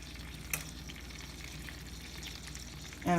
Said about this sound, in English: Now that my butter is searing pretty good, I'm going to go ahead and add my shrimp.